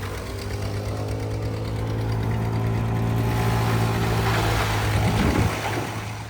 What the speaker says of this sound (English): Chopping corn for silage.